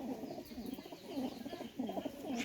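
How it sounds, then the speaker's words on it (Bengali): A Pakistani Teddy pigeon coos softly and repeatedly, a low rolling murmur heard close but faint, in a steady rhythm of throaty pulses. "মাশাআল্লাহ কবুতর"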